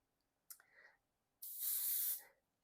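Double-action airbrush spraying paint, one short soft burst of spray followed by a longer, louder steady hiss of under a second, heard up close in a quiet room.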